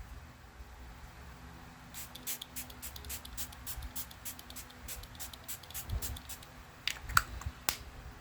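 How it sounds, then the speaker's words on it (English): Ruby Kisses matte setting spray is pumped in a quick series of short misting bursts, close to the mic, crisp spritzes in a fast rhythm over quiet room tone. "the next product I'm going to use is this here Ruby Kisses matte setting spray"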